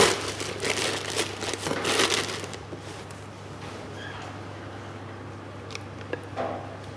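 Madeleine batter, made with sifted flour, is scraped and squeezed into a plastic piping bag, giving soft crinkling and squishing close by for the first couple of seconds, then quiet rustles over a steady low hum.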